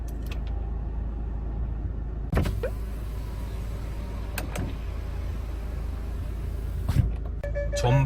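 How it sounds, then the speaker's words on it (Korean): Power-folding side mirrors on a used Kia Sportage R SUV whir briefly over a steady low engine rumble, with a few sharp mechanical clicks and thunks. No one speaks. "접이식 사이드 미러"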